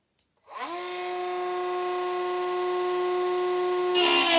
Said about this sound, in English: So it's going to get a little bit noisy now, and we'll cut the track.